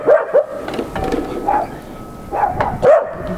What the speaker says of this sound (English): She's barking because he is.